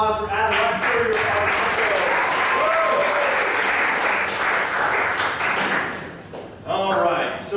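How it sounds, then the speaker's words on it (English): A comedy show audience claps loudly in a steady, dense round of applause that swells, dips briefly near the end, then picks up again. "One more round of applause for Adam Lester"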